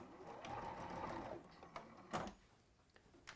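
Sewing machine running in a steady whirring burst as it stitches two halves of a fabric beak together, then stopping, followed by a few faint clicks and handling sounds.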